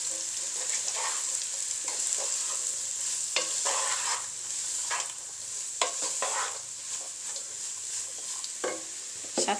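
Chopped zucchini squash sizzling and frying in a pan, a steady hiss with intermittent stirring scrapes and clatters, close and alone without any voices.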